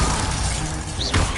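Glacius ice spell cast in Hogwarts Legacy, heard as a brief shattering, crackling burst with a quick whoosh near the end, over a steady bed of game ambience.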